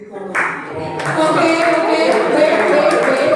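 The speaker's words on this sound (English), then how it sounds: "wait, don't applaud now." Audience at a school children's day celebration breaks into sustained clapping after a sudden start, the sound fairly close and even, with speech mixed in.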